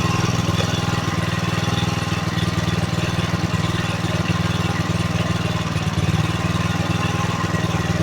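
A homemade motor generator idles close by with a steady, loud, chugging engine drone that holds even throughout, with no talking.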